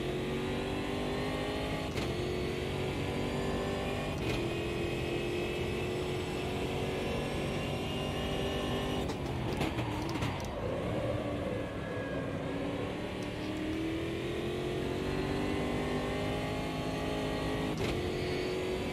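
A stock race car engine in Automobilista 2 drones steadily and loudly at high revs for the whole stretch, with shifts and pitch dips around the middle and no talk over it.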